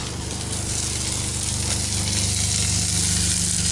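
Steak sizzling as dinner cooks at sunset in Coal Shaft Bay, a steady close frying hiss with crackle that runs unbroken throughout, no talk over it.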